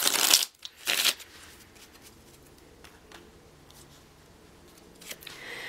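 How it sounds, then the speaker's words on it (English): Tarot cards are shuffled in two quick, crisp riffles close up, followed by quiet handling and a faint rustle. "One more shuffle."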